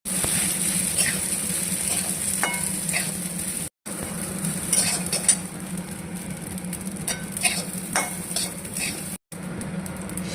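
Spices, dalia and moong dal fry and are stirred in a pan, a steady sizzle with scraping and clinking of a utensil against the pan, broken by two brief silent cuts.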